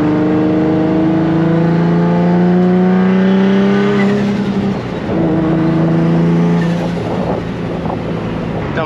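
A car engine with an exhaust leak runs loud and steady, its pitch climbing as it revs, then dropping back with a rough, raspy exhaust edge.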